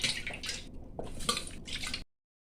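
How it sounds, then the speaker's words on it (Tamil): Wet squelching and sloshing as hands knead soaked tamarind in water, a steady close-up dripping and swishing that stops abruptly. "நல்லா புளியை ஃபஸ்ட்டு கரைச்சி எடுத்துக்கலாம்."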